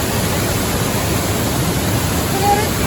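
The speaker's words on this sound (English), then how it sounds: "Here's a full view of the falls, including old Kong out there." A waterfall in dense Vietnamese jungle pours as a loud, steady broadband roar, unbroken for the whole stretch with no voices over it.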